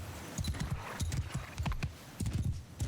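Horse hooves clip-clop on a battlefield in the Mount & Blade II: Bannerlord video game, a series of quick rhythmic bursts of galloping hoofbeats, moderately close and steady, with no talk.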